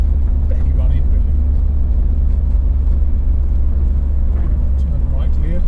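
A 1995 Land Rover Discovery 300Tdi with its diesel engine heard from inside the cab while driving on the road, a steady loud low rumble and road noise with someone talking over it.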